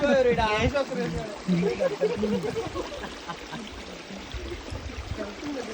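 Steady rushing water of a forest stream near a waterfall flows close by, with someone talking over it at the start.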